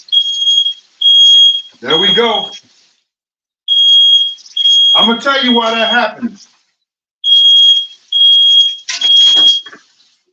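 A household smoke alarm set off by frying food beeps in three bursts of rapid shrill tones separated by pauses, while someone talks over parts of it.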